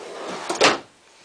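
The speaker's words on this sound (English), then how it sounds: "these drawers are also fully extending ball bearing drawer guides" A fully extending RV kitchen drawer on ball bearing guides slides and thumps shut, a single short rolling swish ending in a soft knock, close and alone.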